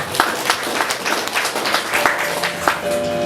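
An audience at a church choir gathering applauds a speaker. A ragged burst of hand claps rings out with distinct sharp slaps over a room murmur.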